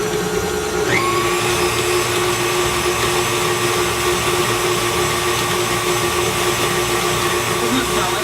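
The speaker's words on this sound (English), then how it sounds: "And now we're gonna whisk it up." Electric whisk mixing paleo chocolate chip cookie batter, a loud continuous motor whir with a steady pitch running the whole time, close and alone.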